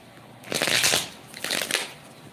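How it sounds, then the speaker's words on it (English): A tarot deck is shuffled nearby in two quick papery riffles, the first longer and fuller, the second shorter and lighter. "One more shuffle."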